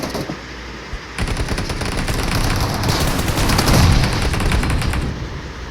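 Rapid automatic gunfire and bursts from a video game firefight, loud and sustained throughout with dense overlapping shots and booming impacts.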